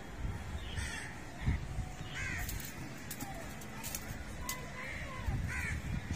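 Several crows caw repeatedly at moderate distance, harsh calls scattered over a steady outdoor background.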